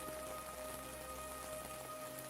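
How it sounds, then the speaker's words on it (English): Soft rain falls steadily on surfaces in a quiet town, an even, hushed patter with no other sounds standing out. "Only the quiet sounds of rain and the distant whisper of wind moving through"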